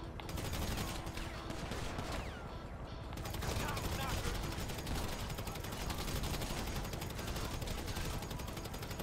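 Rapid shotgun fire in the game GTA Online, a dense, continuous barrage of loud blasts running the whole stretch alongside other in-game gunfire.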